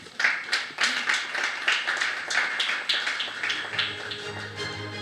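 A conference audience applauds, with sharp scattered claps building into a round that gradually thins and fades toward the end.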